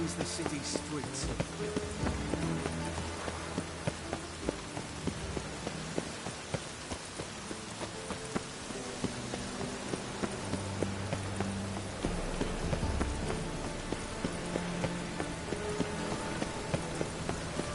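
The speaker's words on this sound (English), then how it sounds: "The rain will cleanse the city's streets." In a video game, rain patters steadily on city streets, a constant wash heard at moderate volume with occasional footsteps or hoof-like knocks and spoken voices over it.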